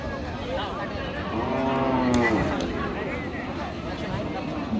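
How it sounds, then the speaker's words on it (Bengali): A cow with her calf lowing at a cattle market: one long, close moo swells and fades in the middle, over continuous voices and crowd babble. "গাভী বাচ্চা দুটি সুন্দর"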